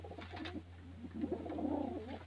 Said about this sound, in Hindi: ये बग्गे लक्की कबूतर हैं